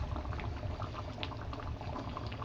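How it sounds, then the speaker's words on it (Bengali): Potato curry bubbles in a pot with the lid off, a dense, close, steady boil of low gurgles and soft pops that runs without pause and without speech. "এবার আমি ঢাকনাটা তুলছি। খুব সুন্দর ফুটে উঠেছে।"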